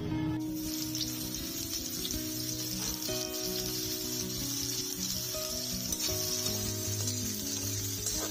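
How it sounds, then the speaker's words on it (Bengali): Soaked, squeezed soybean chunks frying in mustard oil, a steady close sizzle with crackling pops running unbroken throughout, no voices. "এবার তেলে ভেজে নেব"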